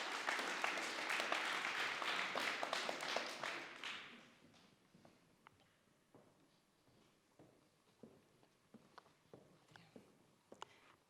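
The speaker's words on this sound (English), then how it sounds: "Big applause to Mila Petrova." Audience applause at a startup pitch event on stage, a dense burst of clapping for about four seconds that fades to scattered claps and murmurs in the room.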